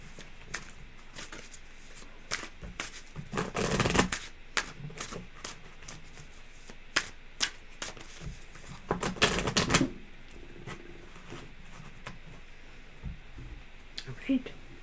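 Tarot cards are shuffled close by in two quick riffling bursts, with scattered soft taps and card handling around them, all at a quiet level.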